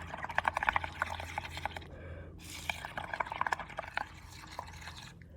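Bubbly liquid sounds as someone blows through a straw into blue bubble paint, giving a busy, crackling bubbling that pauses briefly midway and resumes, close up with no talk.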